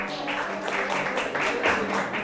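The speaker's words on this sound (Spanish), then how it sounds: "Denle un aplauso a la Angie." Audience applause during a Spanish-language church sermon: a steady wash of many hands clapping together at moderate loudness, filling the whole moment without a clear break.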